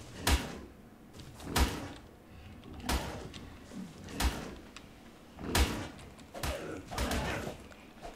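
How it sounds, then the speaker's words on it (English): Heavy crashing and thudding as a large creature knocks down a player's house in the Ark survival game, with repeated loud impacts at uneven intervals, each followed by splintering rumble. "He's knocking down my house!"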